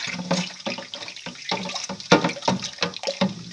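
Close sloshing and swirling of homemade wine being stirred in a container, with irregular liquid splashes and knocks.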